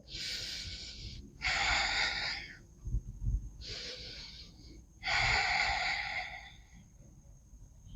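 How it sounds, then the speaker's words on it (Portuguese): Slow, deep breathing during a yoga session for hip opening and spine stretching: four long airy breaths in and out, close and clearly audible, alternating with brief quiet pauses. "Inspira. Expira."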